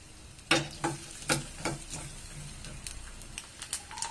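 Finely grated coconut fries in a clay pot for pongal while being stirred, with a few sharp scraping strokes early on over a low, steady sizzle that fades to light crackles.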